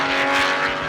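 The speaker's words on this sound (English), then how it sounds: "I think I hear some Porsches right now" Porsche race cars run on a track about a hundred feet outside a ranch garage, a brief steady engine whine and rumble heard at a moderate distance.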